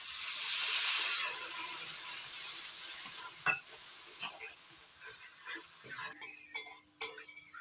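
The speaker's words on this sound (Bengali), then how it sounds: "অল্প অল্প জল দিয়ে মশলাটা কষে নেব" Spice paste frying in oil with a splash of water for a fish-roe dish, a loud close hiss and sizzle that fades, followed by scraping stirs and clinks.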